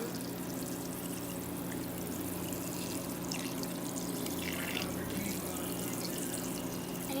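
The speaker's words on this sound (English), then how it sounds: "So now I'm just going to wash my turkey very, very good." Water runs steadily from a tap over a raw whole turkey being washed in a sink, a constant rushing stream with faint splashing shifts and no talk.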